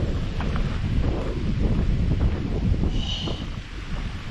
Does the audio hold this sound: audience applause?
no